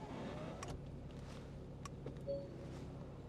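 The electric convertible roof of a 2013 Porsche Boxster 3.4 981 S closes with a faint, low mechanical whir over a quiet idle, with a few soft clicks and a brief motor whine near the end.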